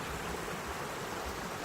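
Water flows steadily along a creek, an even, continuous rushing wash heard close up and alone.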